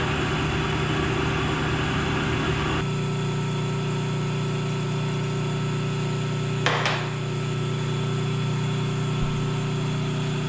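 Metal lathe facing and chamfering a part for a Little Giant 25 lb power hammer, a steady motor hum with cutting noise that changes in tone about a third of the way in, plus a brief sharp scrape near the end.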